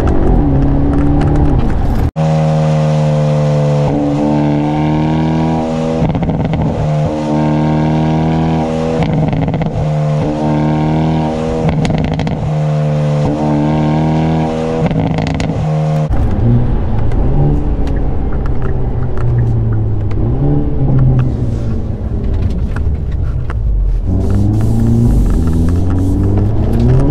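A 2023 Hyundai Elantra N driven on a wet road, its exhaust droning loud and close through repeated rising gear pulls, with engine pitch climbing, dropping at shifts, then rumbling lower and uneven toward the end.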